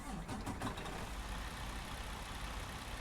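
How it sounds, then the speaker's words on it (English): A Western Star 57X truck engine in American Truck Simulator catches with a few quick cranking pulses, then settles into a steady, fairly quiet low idle that carries on alone. "I'm gonna go ahead and start the truck up."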